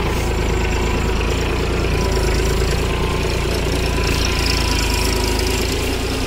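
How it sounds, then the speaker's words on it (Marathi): A Mahindra OJA 2130 tractor engine runs steadily in four-wheel drive while the tractor moves along by itself, giving a close, continuous, loud diesel drone with a rough knocking rumble and no talk. "ट्रॅक्टर ऑटोमॅटिक चालत आहे, 4 व्हीलमध्ये आहे ट्रॅक्टर"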